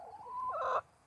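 A large Brahma hen gives a single short, close cluck that rises into a brief throaty call, alone with no talk.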